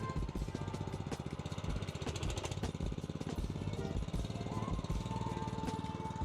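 A petrol pressure washer engine chugs steadily after being pull-started, a close, rapid, even putter that runs throughout the clip.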